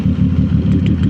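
A 2025 CFMOTO 675 SS motorcycle fitted with a full exhaust gives a loud, close, throbbing engine rumble with a steady pulsing beat over one brief moment.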